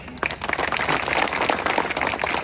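Crowd clapping at a government youth entrepreneurship event at the collector office in Robertsganj, Sonbhadra, a dense, continuous patter of many hands rising quickly and staying fairly loud throughout.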